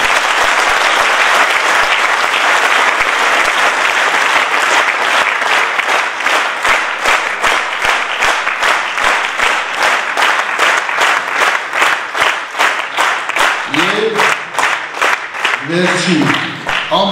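An audience claps loudly and steadily at a formal event, a dense wall of applause that settles into rhythmic unison clapping, with a few brief voices rising near the end.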